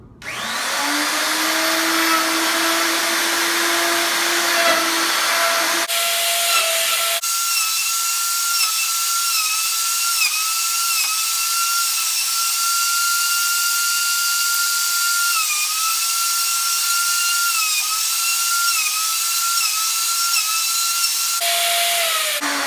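A router fitted with a 1-inch cutter on a 1/2-inch shank screams at high speed while surfacing wood on a homemade router sled, a steady loud whine that shifts pitch as it bites into the board, with brief spin-up and spin-down at either end.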